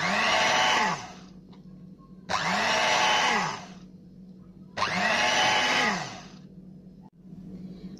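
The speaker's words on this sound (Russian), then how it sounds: "И сейчас надо перемешать опять миксером секунд 20 короткими движениями." Electric hand mixer whirring through cake batter in three short bursts, each a loud close buzzing whine ramping up and cutting off, with quiet gaps between.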